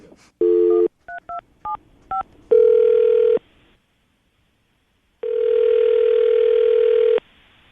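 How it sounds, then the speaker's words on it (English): A telephone dialing out to make a call: a dial tone, then a quick string of keypad beeps, a steady tone, a short silence, and a long ringing tone, all clear and close. "we're going to call her right now, see if we can get her on the phone"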